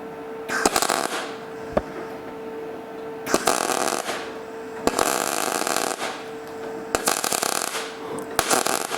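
Metal nuts being welded at a bench, heard as five separate bursts of harsh, loud crackling arc noise, each lasting about a second, with quieter gaps between them.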